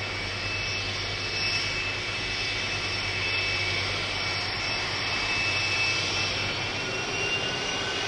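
A Finnair Airbus A350 jet at Birmingham Airport makes a steady, loud engine roar with a high whine that holds without a break throughout.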